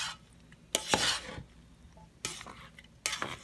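A spoon stirring chicken macaroni salad in a bowl, giving a few soft scraping and clinking bursts separated by quiet gaps, close and fairly faint with no speech.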